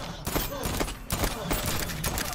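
Rapid SMG gunfire bursts in the Voidtrain video game, loud sharp shots repeating through the whole stretch over game ambience, with a voice present.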